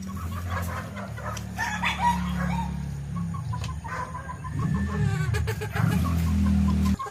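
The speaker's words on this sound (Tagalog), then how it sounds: "Ayan, ang dami niyang manok." Chickens cluck and squawk close by in a backyard garden, with bursts of cackling and a rooster call over a steady low background hum.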